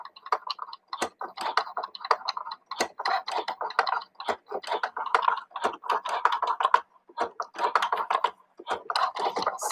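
A Cricut Joy electronic cutting machine cuts small shapes from faux leather, making quick, irregular bursts of ticking and whirring carriage movements that start and stop repeatedly at close range.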